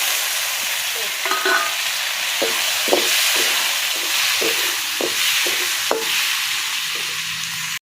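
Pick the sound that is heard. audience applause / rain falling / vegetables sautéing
vegetables sautéing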